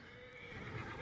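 Horse in Assassin's Creed Origins gives a short whinny with a few hoof clops underneath, brief and fairly quiet against game ambience.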